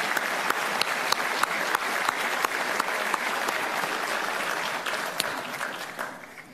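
An assembly applauds medical staff during a presidential address to Congress in Asunción, sustained crowd clapping with a few sharp nearby claps standing out, fading away in the final second.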